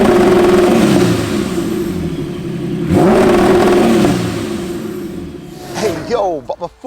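A sequential-gearbox Mitsubishi Evo carrying an R35 GTR engine revs hard and loud, the pitch climbing in rising sweeps with a shift break near the middle, then quick rising blips at the end.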